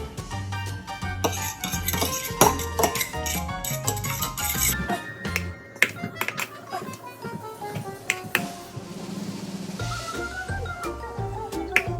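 Strawberry pancake batter stirred from scratch in a bowl, with rapid metallic clinks and taps of a utensil against the bowl's side, fairly close and continuous, while people talk quietly now and then.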